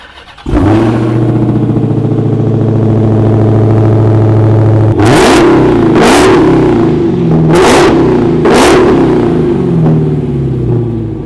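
A Dodge Challenger Redeye starts with a loud bark, settles into a deep, lumpy idle, then blips sharply through several quick revs, loud and close with no talking.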